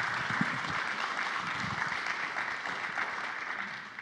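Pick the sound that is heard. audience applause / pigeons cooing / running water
audience applause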